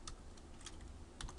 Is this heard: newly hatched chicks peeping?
no